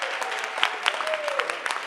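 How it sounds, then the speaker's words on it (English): An audience at a Black History Month panel breaks into applause, a dense, moderately loud patter of clapping hands with some voices mixed in. "Can we please give them a round of applause?"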